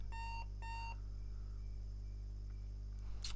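An electronic alarm clock in a point-and-click video game rings in two short bursts of bright, repeated beeping, then stops, leaving a steady low hum and a faint chirp near the end.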